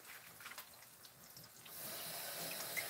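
Spinach leaves are rinsed under a running kitchen tap: soft splashing and handling at first, then a steady hissing stream of water filling the sink for the last second or so, faint and close.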